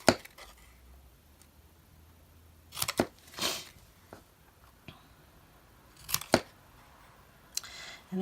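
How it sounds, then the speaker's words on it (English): Scissors snipping between score lines on a handmade trophy piece, a few sharp isolated cuts spaced apart with quiet pauses between, close and moderately loud. "we're going to just cut in between each of those score lines"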